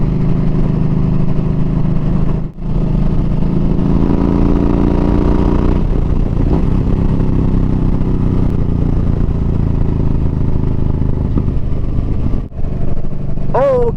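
A Yamaha VStar 1300 Deluxe cruiser motorcycle engine runs steadily while riding on a road, a continuous mid-pitched drone with wind noise and brief dips in level.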